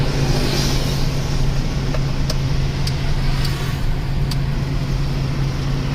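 A Toyota Vigo pickup with an upgraded turbo and a tuned ECU drives along with a steady, loud engine drone and road noise from inside the cab, with a few faint high clicks.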